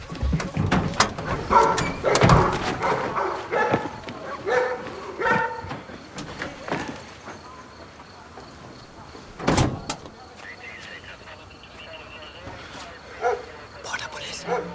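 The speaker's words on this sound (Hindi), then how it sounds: "कुत्ते।" Dogs bark near a stopped car in a dubbed film scene, with loud bursts of barking mixed with door and vehicle sounds while people talk urgently, followed by a quieter stretch.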